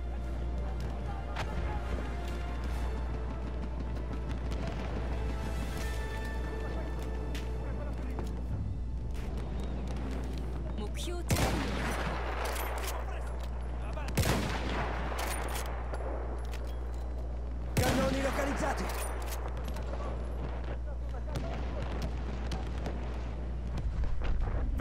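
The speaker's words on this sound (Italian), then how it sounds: "Artiglieria nemica!" Enemy artillery fire in Battlefield 1 booms in several loud, widely spaced blasts over a constant low rumble of battlefield noise, with distant crackling in between.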